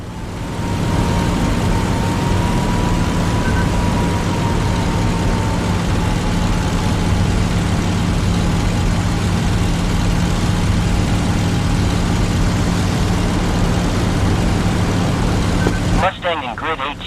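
A Spitfire's piston engine drones steadily and loudly throughout an online multiplayer flight combat game, with a constant low hum and a faint wavering tone above it, and a brief burst of different noise near the end.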